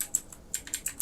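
Typing on a computer keyboard, a short run of light, close key clicks in an uneven rhythm, quiet and with no voice.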